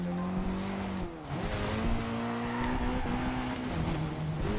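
A car in Forza Horizon 2 drives through mountain switchbacks, its engine droning steadily with shifting pitch while tires scrub and squeal through the bends, loud and continuous.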